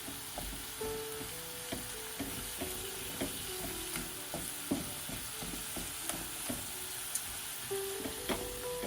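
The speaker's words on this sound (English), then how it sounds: "I'm just going to stir that around for a minute. Let that garlic cook a little." Garlic sizzles steadily in a pan while a utensil stirs it, giving repeated small clicks and scrapes against the metal over a continuous close-up frying hiss.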